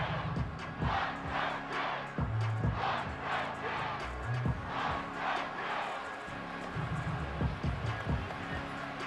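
A stadium crowd roars during an NFL football game between the Chicago Bears and Washington Commanders, a dense, sustained roar with rhythmic surging bursts, loud and continuous throughout.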